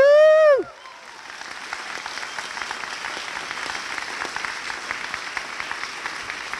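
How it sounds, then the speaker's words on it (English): University convocation crowd applauds after a brief sung or held voice ends, then steady mid-level clapping continues throughout, fairly distant in a large hall. "I'd like to hear an applause for these people."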